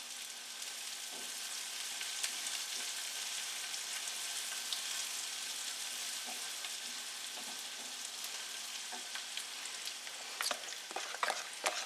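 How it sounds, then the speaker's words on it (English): Onions being stirred in a hot pan for a Tex-Mex corn casserole, a steady sizzle of frying running throughout with soft scraping strokes of the spoon, growing more frequent and louder near the end. "Give my onions a little stir."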